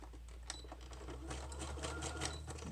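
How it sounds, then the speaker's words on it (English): A sewing machine stitches through handmade junk journal pages in a quick, rattling run of needle strokes that starts up and keeps going. It is fairly close and quiet, and no one speaks. "Hold on, let me sew that again."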